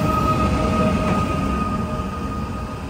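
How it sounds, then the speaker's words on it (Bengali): Bullet train in Uzbekistan passing by outdoors as a steady, fairly loud rushing rumble with faint tonal hum, gradually easing as it moves on. "এই হচ্ছে সেই বুলেট ট্রেন যাচ্ছে।"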